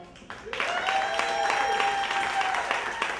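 Audience applause fills a comedy improv show after an act is introduced, a dense burst of clapping and cheering that swells quickly and holds steady, with a sustained whistle or tone running through it.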